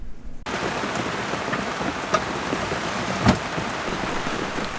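Steady rain falls on a sailboat moored in a harbor on Madeira, a dense even hiss with a few louder drips and taps standing out, close and continuous with no one speaking.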